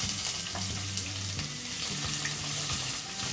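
Chopped onions frying in a pan of hot oil with curry leaves, a steady close sizzle running throughout, with occasional stirring scrapes.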